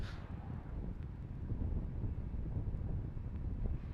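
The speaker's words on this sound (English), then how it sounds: "So it continues to be quite blustery here." Strong gusty wind buffets the microphone at a Falcon 9 launch site at Cape Canaveral, gusting near 25 mph; a steady, fairly faint low rumble of wind noise with no voices.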